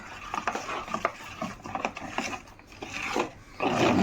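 A papad vada mixture being mixed by hand with chili powder and turmeric, giving a close, uneven rasping and rubbing with soft, irregular scrapes throughout and a denser burst near the end, with no talking.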